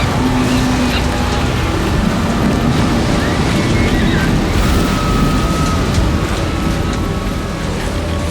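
Ocean waves crash in a loud, continuous roar mixed with wind, a dense wall of surf with no clear pauses.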